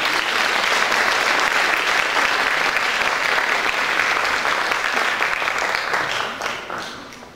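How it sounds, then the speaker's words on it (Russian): Loud, sustained audience applause at a Silver Word radio concert, a dense roar of clapping that holds steady and then tapers off near the end. "Ваши аплодисменты"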